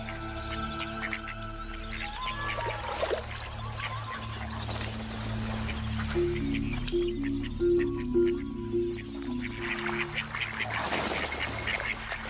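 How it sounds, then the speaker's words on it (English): Ducks quack and squawk repeatedly in a noisy outdoor scene, their calls overlapping with a steady low background rumble. "showing only half-hearted interest in the squawking fowl"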